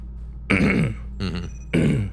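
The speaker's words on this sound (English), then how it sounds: "Very intentionally coughing to get someone's attention." Three deliberate, forceful coughs with a rough throaty edge, close up, with short pauses between them.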